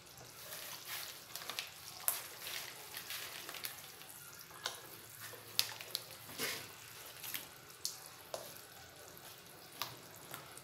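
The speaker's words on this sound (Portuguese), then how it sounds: "Tá fervilhando." Homemade soap mixture bubbling and fizzing in a container, a soft, continuous crackle with frequent small pops and sizzles, fairly faint and close, with no voices.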